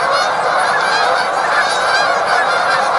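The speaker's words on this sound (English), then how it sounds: "there's a lot of geese, and I've disturbed the shit out of them" A large flock of geese honks continuously by a frozen river, a dense, overlapping chorus of loud calls with no pauses and no talk.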